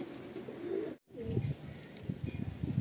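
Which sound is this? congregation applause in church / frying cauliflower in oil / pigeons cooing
pigeons cooing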